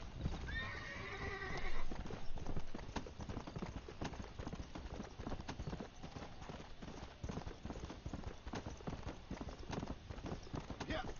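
Horse hooves clip-clop steadily in Red Dead Redemption: Undead Nightmare, with a brief whinny near the start and then an even trotting rhythm throughout.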